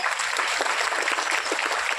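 Loud, dense applause from an audience at an Indian ayurveda product presentation, steady clapping throughout with no pauses.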